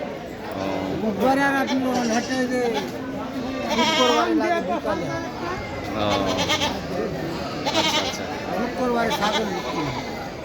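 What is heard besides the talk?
goats bleating at a rural goat market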